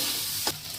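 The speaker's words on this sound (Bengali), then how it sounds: "ব্রাউন করে ভেজে নিতে হবে।" Onion fries until brown in a pan for potato chops, giving a faint steady sizzle broken by one quick stirring scrape of a spatula.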